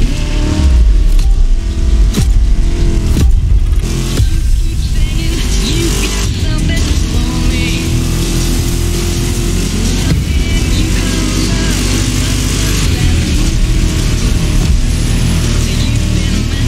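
A vintage car's engine in the racing game The Crew Motorfest roars loudly and continuously, gear changes and revs rising and falling with bursts of tire noise, while a voice speaks over it.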